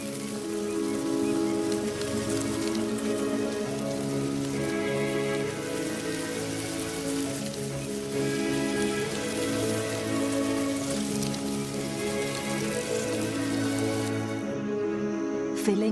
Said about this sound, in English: The first drops of rain trigger a remarkable event.